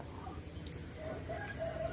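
Faint, scattered clucks from chickens somewhere in the distance, over a low, steady background murmur.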